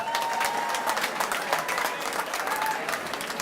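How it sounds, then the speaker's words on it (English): An awards-ceremony audience at a drama festival applauds the winners with sustained, dense clapping that fills the room steadily from start to finish, with a few faint voices mixed in. "Round of applause, please."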